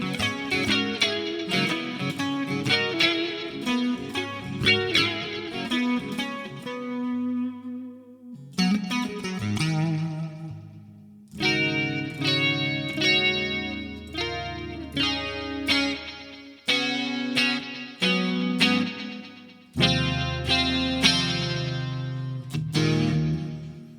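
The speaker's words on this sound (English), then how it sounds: "with that neck pickup, you tend to get some really nice clean tones too." An electric guitar through an Elysian Obsidian humbucker neck pickup plays clean-toned phrases of ringing notes and chords, broken by short pauses, with no voices.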